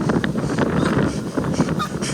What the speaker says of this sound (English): This wind today is insane